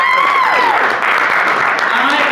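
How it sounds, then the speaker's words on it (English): Loud, sustained applause from a large audience, with cheers and whistles rising above the clapping. "Like, clap, any parents in the house?"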